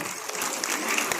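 Audience clapping in a hall during a talk, a brief, dense burst of applause from many hands.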